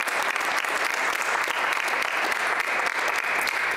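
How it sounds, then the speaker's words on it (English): A high school choir concert audience applauds for a choir member, steady dense clapping throughout, loud and continuous. "give him a huge round of applause"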